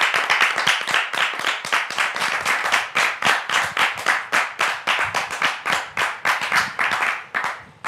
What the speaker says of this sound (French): Merci de le recevoir donc sous vos applaudissements.